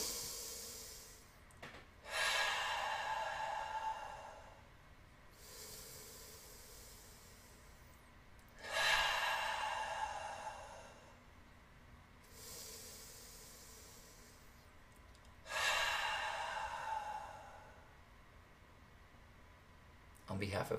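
A group taking three slow deep breaths together, each a long airy inhale-exhale rush, evenly spaced with quiet pauses between.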